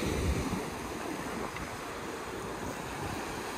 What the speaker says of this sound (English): You can see how fast the tides are coming towards the shore.